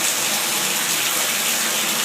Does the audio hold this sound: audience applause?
no